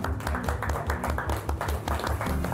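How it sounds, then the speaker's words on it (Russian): Hands clapping for a stream audience in a steady, fairly loud run of claps, rhythmic and close, with no talk over it. "давайте похлопаем"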